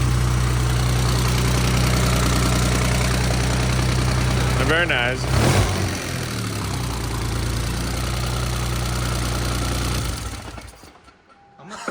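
A freshly rebuilt engine holds a steady, loud high idle on its first start, with a dense mechanical drone that runs throughout and fades near the end. A person speaks briefly over it.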